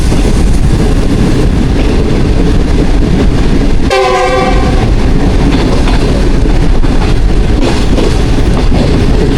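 Green Line Express passenger train running from Islamabad to Karachi on the main line in Pakistan: a loud, steady roar of wheels on rails and rattling carriages, with a sharp horn blast cutting through the rumble partway along.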